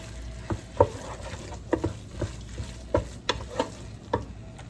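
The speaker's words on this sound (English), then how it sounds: "Now we're going to add our broth." A spoon stirs a sizzling lamb shepherd's pie mixture in a Ninja Speedi as broth goes in, with irregular scraping knocks over a soft frying hiss.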